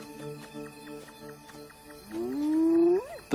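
A male lion roars at night in the African wild, moderately close: a series of short grunting calls building into a long, rising, moaning roar that swells and then cuts off abruptly.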